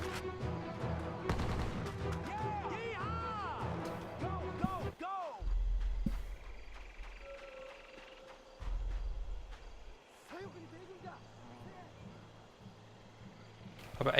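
Video game gunfire crackles in quick bursts as a player shoots enemies through trees, mixed with game effects and a steady background score, a voice talking over parts of it.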